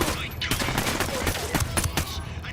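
Rapid bursts of gunfire crackle in quick, uneven volleys in the video game Ghost Recon: Wildlands, loud and close, with faint voices mixed underneath.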